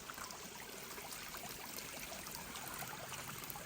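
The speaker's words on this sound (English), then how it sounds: "where the stream bubbles up" A spring-fed stream bubbles up from the ground in remote wilderness, giving a soft, steady trickle and gurgle that stays faint and even from start to end, with no voices.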